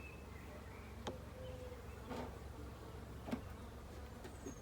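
Steady low buzzing of many honeybees on a hive frame, close and continuous, with a few brief louder bursts as individual insects pass near.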